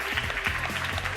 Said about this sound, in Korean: 마이봇한테도 박수 한번 쳐주시죠